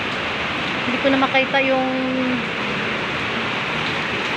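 Heavy rain pours steadily outside a house, a constant hiss of broadband noise throughout, with a person speaking over it in the middle.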